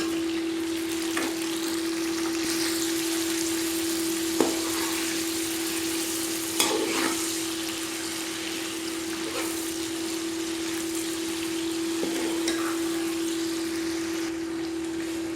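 Medium potatoes frying in oil while chicken koftas are being prepared, a steady soft sizzle and bubbling held throughout with a constant hum, a few brief clinks standing out, no talking.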